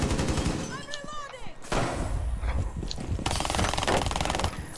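Video game gunfire rattles in rapid bursts of shots, loud and close, broken by brief pauses and a rising whine, with a voice talking over the game sounds.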